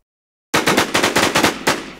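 Automatic gunfire from the zombie-survival video game Infestation World erupts after a moment of silence as a rapid burst of about eight sharp, loud shots, followed by one last separate shot.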